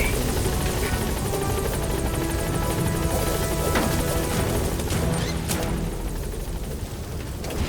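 Pequod, the transport helicopter in Metal Gear Solid V: The Phantom Pain, arriving at a landing zone, its dense rotor and engine roar filling the whole stretch at a steady loud level, with a few brief sharp knocks in the mix.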